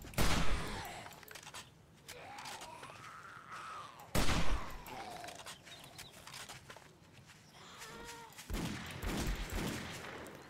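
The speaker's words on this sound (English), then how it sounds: "Look at that, 3 shots right over his shoulder." Gunfire in the zombie survival video game 7 Days to Die, with three loud sharp bursts at the start, around four seconds and near the end, and quieter game sounds between them.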